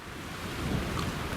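Strong wind gusting outdoors beside an old warship, a steady broadband roar that swells slightly midway and holds loud throughout, with no voices.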